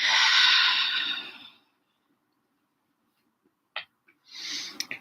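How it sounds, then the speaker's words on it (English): A person breathes out in a long, audible exhale, fading into silence, then a short sharp sound and another breath rising near the end, all close to the microphone in a quiet room. "I hear my breathing."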